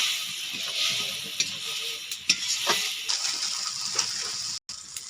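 Tomatoes for a Bengali fish-head curry get stirred with a little water in a hot pan, a steady sizzle broken by a few sharp scraping clicks of the spoon, close and fairly loud with no talking.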